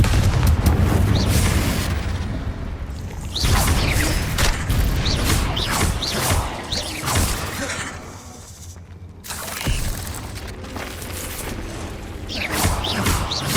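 Spell blasts from Bombarda and Confringo curses in Hogwarts Legacy, a dense run of booming impacts and crackling bursts with mechanical clatter, loud and continuous over about thirteen seconds.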